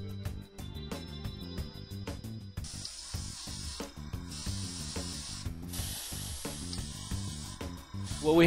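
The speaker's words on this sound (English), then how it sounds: "we're going to go ahead and seal it in with a flat coat" An aerosol or airbrush lays a flat sealing coat over decals on a model M20 armored car, giving several steady hissing bursts of a few seconds each over continuous background music.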